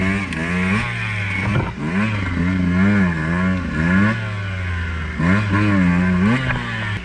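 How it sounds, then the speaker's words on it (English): A dirt bike engine revs hard on a fresh-cut single track trail, the pitch rising and falling in repeated throttle blips, loud and close with no talking over it. "We have dirt bikes, you want to just give her?"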